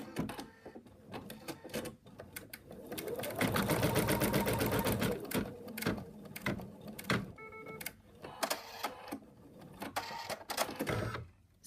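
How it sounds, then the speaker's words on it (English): Embroidery machine stitching the placement line for a monkey's arm: a rapid, rhythmic mechanical whirring and needle clatter that speeds up and pauses in bursts, close by, with faint voices in the background. "it's going to stitch the placement line for the arm"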